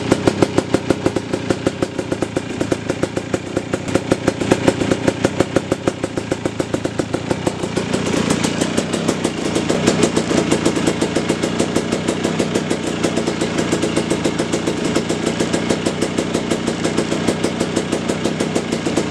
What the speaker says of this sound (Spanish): ya tenemos nuestra motocicleta funcionando